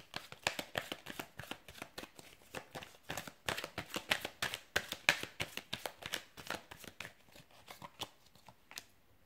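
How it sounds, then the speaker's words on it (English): A deck of tarot cards is shuffled by hand at a table, giving a quick series of crisp flapping riffles and slaps in an uneven rhythm, close and fairly quiet, with no talking. "I'm going to give the cards a shuffle"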